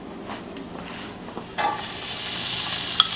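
Chopped onion dropped into a hot pan on high heat for stuffed spinach cheese chicken rolls, a soft hiss that jumps into a steady, brighter sizzle partway through, heard up close with no talk.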